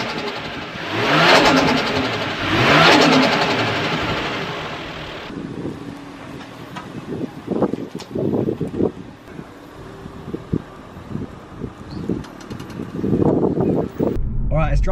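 A Toyota Crown JZS171 with a newly fitted front-mount intercooler, its engine revving loudly under wind noise, then settling into a lower, quieter drive with bumps and knocks and someone speaking intermittently over it.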